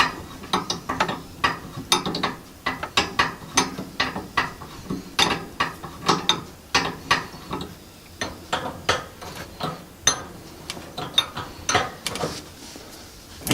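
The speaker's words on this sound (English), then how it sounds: "after finding the right size wrench for the fittings, you simply want to loosen them up and get that tube" A wrench loosening flex feed line fittings on a valve under a sink, a loud, close run of rapid ratcheting clicks in uneven bursts that continues throughout with no talk.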